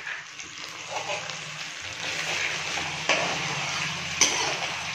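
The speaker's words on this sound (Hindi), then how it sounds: "ये मैंने प्याज इसमें डाल दिए फ्राई करने के लिए" Onions fry in a pan with garlic ginger paste for an egg curry, a soft steady sizzle with a couple of brief utensil clinks, fairly faint and close.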